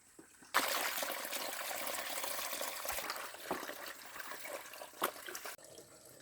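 Water runs weakly from a tap during hand laundry in a rural home. A steady hiss and trickle begins abruptly, continues with a few small splashes, then stops.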